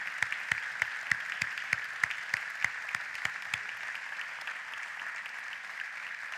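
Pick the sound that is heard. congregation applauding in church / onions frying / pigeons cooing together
congregation applauding in church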